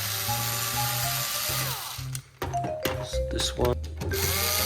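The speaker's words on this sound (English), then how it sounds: "remove these 2 screws, and now the panel just comes off" A power screwdriver whirs in short bursts, backing out screws from the panel of a Kawai CN-series electronic piano, with brief pauses and clicks between runs and someone speaking briefly.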